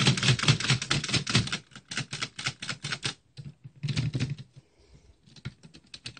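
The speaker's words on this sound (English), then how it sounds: "We're going to learn how to use a typewriter from 1919, everybody." Antique 1919 Woodstock typewriter being typed on, rapid bursts of sharp mechanical key strikes close up, broken by brief pauses before another quick run of clacks.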